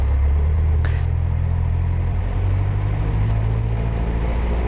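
A Cessna C152 piston engine holds 1700 RPM during a magneto check on the ground, a loud steady low drone with a slight shift in tone partway through and no talk.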